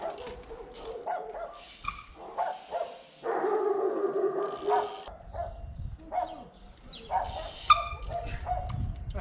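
A small, nervous mixed-breed dog barks repeatedly in short, sharp yaps with some whimpering in between. The barking is close and fairly loud, in bursts across the whole stretch, and a little background noise sits underneath.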